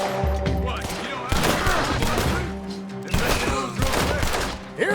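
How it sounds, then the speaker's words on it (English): Gunfire in the video game Red Dead Redemption 2: loud repeated shots in bursts and a steady fusillade, sharp cracks with echoing tails, dense and close, with short voiced exclamations mixed in. "What are those guns they have?"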